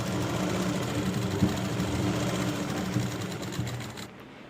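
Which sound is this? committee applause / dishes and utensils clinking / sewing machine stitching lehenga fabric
sewing machine stitching lehenga fabric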